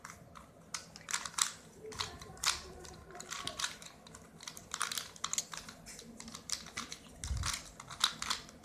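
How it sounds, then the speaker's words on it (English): A barrel cylinder puzzle cube is shuffled by hand, producing quick irregular plastic clicks and clacks in bursts, close and fairly quiet, with no talking. "Okay, so now I have shuffled my barrel cube."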